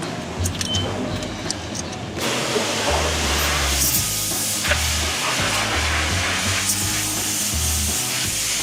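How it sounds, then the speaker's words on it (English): A pressure washer sprays down a truck at a car wash, a steady loud hiss and rush that starts abruptly partway through and continues unbroken, with a low engine-like rumble beneath. "I'm gonna come over here and start spraying down this truck."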